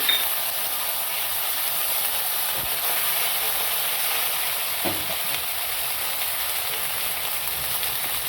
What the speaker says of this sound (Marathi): आलं लसणाची पेस्ट टाकूया